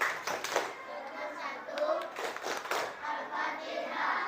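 Second-grade schoolchildren clap along to the Al-Fatihah chant, their rhythmic hand claps mixed with young voices chanting together in a classroom.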